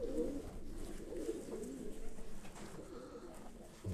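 Racing pigeons in a loft, including Hoymans, coo in low, soft, repeated throaty bursts throughout, fairly faint with a little background rustle.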